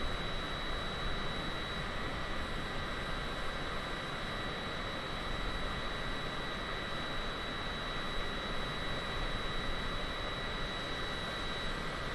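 Constant whine and rush of Cessna Citation private jet engines in Microsoft Flight Simulator 2020 on a flight out of Oakland, California, a steady even drone with a thin high tone and no breaks.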